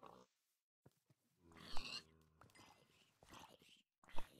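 Pig oinks and snorts from Minecraft, a few short grunting bursts with quiet gaps between them, fairly faint.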